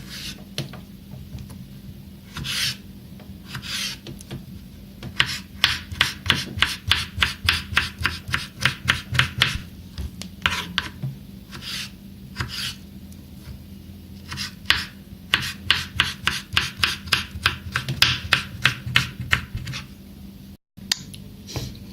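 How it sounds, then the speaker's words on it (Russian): A knife chops cucumbers, eggs and bell peppers rapidly against a cutting board in repeated bursts of quick, crisp strikes, close up, with short pauses between runs. "Также нарезаем огурчики, яйца, болгарский перец"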